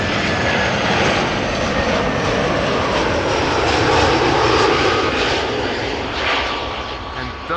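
An ITA Airways airliner comes in to land on runway 06 at Amsterdam Schiphol. Its loud jet engine roar holds steady, swells slightly, then eases off near the end.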